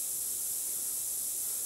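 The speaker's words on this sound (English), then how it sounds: "let's put on some scent spray" A can of scent spray hisses in theHunter: Call of the Wild video game, a steady, fairly quiet airy spray that runs alone for under two seconds.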